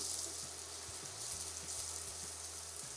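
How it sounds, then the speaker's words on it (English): Minced garlic sizzles and hisses steadily in a hot skillet as it is stirred. A soft, even frying crackle holds throughout with faint low clinks underneath. "we're going to cook the garlic, stirring pretty frequently for about 30 seconds"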